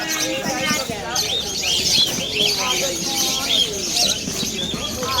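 White pigeons chirp and coo at a pet market in Malabon, with voices talking and wings fluttering now and then amid market bustle.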